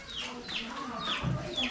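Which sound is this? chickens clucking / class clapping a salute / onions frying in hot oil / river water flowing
chickens clucking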